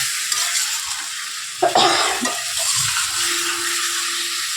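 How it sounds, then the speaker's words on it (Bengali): Potato and egg sautéing in masala in a pan, with a steady hiss and sizzle close by and a short burst of stirring and scraping partway through. "এর মধ্যে দিয়ে দেবো আলুটা ডিমটা দিয়ে একটু কষাবো"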